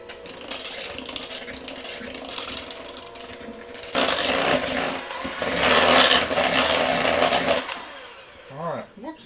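An electric mixer runs steadily while pumpkin is worked into batter for a pumpkin roll, getting louder and busier partway through as the beaters hit thicker batter, then winding down near the end.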